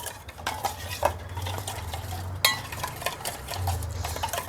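A spoon stirs a sweet potato paratha mixture with sugar until it turns creamy, making close rhythmic scraping and clinking against the bowl with a few sharper taps, and no one speaks.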